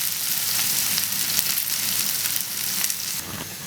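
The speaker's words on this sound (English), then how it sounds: "The onions have been frying gently on a low heat for about roughly 5 minutes now." Sliced onions frying gently in oil in a pan over low heat, a close, steady hiss and crackle with faint stirring scrapes, no talk.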